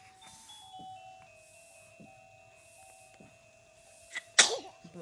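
A baby sneezes once, a short sharp burst near the end, after a quiet stretch with a soft electronic toy tone ringing in the background.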